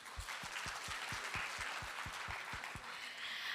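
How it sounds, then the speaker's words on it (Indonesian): Audience applause at an indoor product presentation, a steady wash of many hands clapping at moderate distance, with a few sharper individual claps standing out through the roughly three-and-a-half seconds. "beri tepuk tangan buat kita semua."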